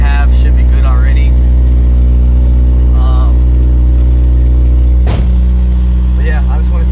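A K20A2 engine swapped into a Mitsubishi Eclipse idles loudly and steadily up close with bolt-ons and a KTuner tune, its deep continuous hum running throughout while someone talks over it.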